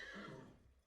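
A brief horse whinny rings out in a video game, a single short neigh that fades quickly, quiet and alone.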